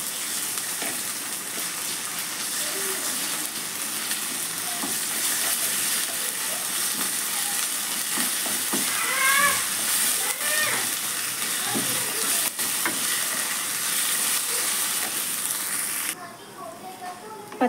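Ginger garlic paste frying in a pan for a prawn fry, a steady hissing sizzle that runs loud and close, then drops off abruptly near the end.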